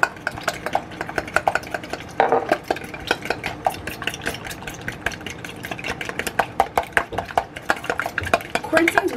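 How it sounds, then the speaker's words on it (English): A fork stirring in a bowl makes quick, steady, close scraping and tinking strokes against the side, rhythmic and fairly loud throughout. "So what I'm gonna do now is get a fork"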